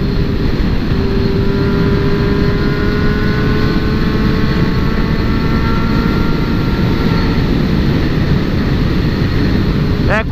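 A powerful motorcycle at speed, a steady loud engine drone with a faint rising tone and heavy wind rush, constant and close for the whole stretch.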